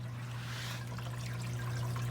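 Faint, steady trickle of water running through an aquarium sump filter, a soft continuous splashing over a low hum, with no voices.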